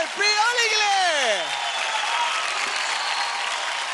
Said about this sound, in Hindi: जोरदार तालियां हो जाए प्रियाली के लिए